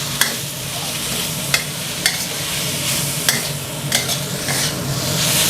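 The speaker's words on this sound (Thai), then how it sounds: "ผัดจนใบกระเพราสุกก่อนนะครับ" Holy basil leaves and minced pork are stir-fried in a hot pan with a loud, continuous sizzle, broken by regular sharp spatula scrapes and taps against the pan. No one speaks.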